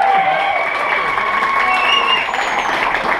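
Audience applause and cheering at a magician's show at the Hard Rock, a dense, steady wash of clapping with crowd noise and a few voices mixed in, fairly loud throughout.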